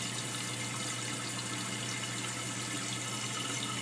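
Water rushes steadily through a toilet's supply line and tank after the shutoff valve is opened on a newly fitted Fluidmaster universal flex connector, a close, constant hiss with no voices.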